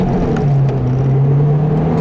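A 2012 Mazdaspeed3 accelerating hard in first gear, its engine a steady, loud drone heard from inside the cabin that rises slightly in pitch as revs build.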